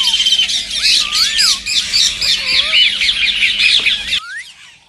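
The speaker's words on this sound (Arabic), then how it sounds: "تشتهر الببغاوات بحبها للتحدث والثرثرة" Loud close parrot squawks and raspy chatter, harsh calls tumbling over each other with rising whistled notes, then an abrupt cut to near silence.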